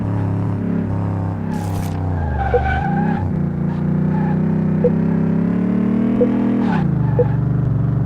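Car accelerating in the Car Mechanic Simulator video game during an acceleration test: a steady, loud engine drone with rising and falling pitch, a brief skidding screech early on and a few short sharp blips, with no talking.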